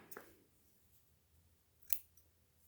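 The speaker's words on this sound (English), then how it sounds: "And then we just trim that off." Scissors snip through cardstock while trimming a Thanksgiving card, with one soft cut near the start and a sharper, brighter snip a little later against a quiet background.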